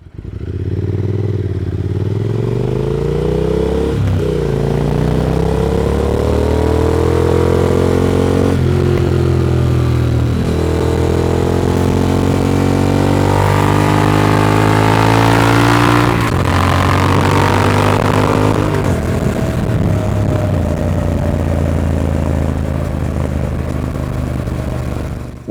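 A Triumph Speed Twin motorcycle engine revs and pulls loudly while riding, its rising and falling tones climbing through gears with harsh, clipped peaks when the throttle is opened wide.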